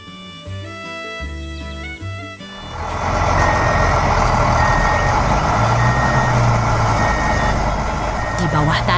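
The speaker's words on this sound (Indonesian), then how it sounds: "truk air kuning melaju dengan cepat" Music plays at first, then a yellow water truck in an animated cartoon roars along with a loud, steady engine rumble and beeping over it.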